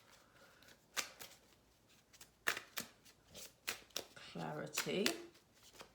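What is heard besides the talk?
shuffling Romance Angels oracle cards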